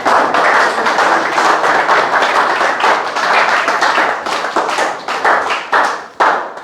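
A church congregation claps in praise of Jesus Christ, a loud, steady rhythmic patter of many hands that thins into a few separate claps near the end.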